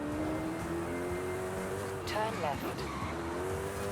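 Koenigsegg Jesko hypercar in Forza Horizon 5 accelerating hard toward top speed, a loud sustained engine drone rising steadily in pitch, with a brief tire squeal and upshift flutter midway, while a voice talks over it.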